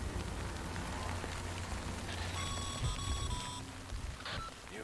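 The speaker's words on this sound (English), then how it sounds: "Good thing it was raining." Video game rain in Death Stranding, a soft, constant hiss of falling drops spread across the scene, with brief electronic tones and chimes rising over it midway.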